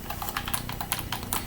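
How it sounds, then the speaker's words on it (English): Quick, crisp clicks of buttons on a first-party Microsoft Xbox 360 controller, pressed in a fast irregular run at close range and fairly quiet. "It has that awesome click to it."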